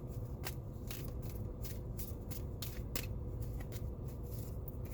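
Tarot cards being shuffled and handled, a steady run of crisp, close paper flicks and riffles over a quiet room hum, with no voices.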